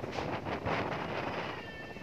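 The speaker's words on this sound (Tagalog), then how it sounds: "So it means talagang malakas po yung hangin." Strong wind during stormy weather on the coast whips through coconut palm leaves, a steady close rushing roar with gusty surges and buffeting against the microphone.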